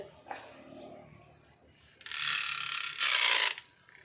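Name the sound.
small electric mini fan running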